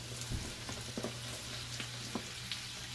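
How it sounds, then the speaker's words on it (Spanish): Bacon and cabbage sizzle steadily in a hot frying pan, with a constant crackling hiss and a few soft clicks and bumps from stirring near the start and middle. "Vamos ahora a echar el repollo."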